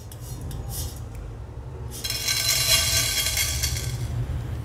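Roasted black peppercorns being scraped out of a pan with a metal spoon, a brief scrape followed by a longer rattling, grating stretch, close by, with a low hum underneath.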